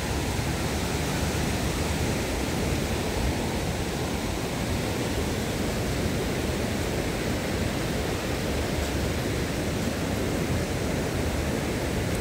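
Big ocean waves at Patong Beach, Phuket, at sunset, making a loud, continuous roaring wash of surf with no distinct breaks.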